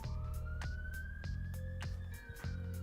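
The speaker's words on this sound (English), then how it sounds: "Siren." A wailing emergency siren rises and falls steadily over a rhythmic low pulsing, sounding fairly distant and muffled.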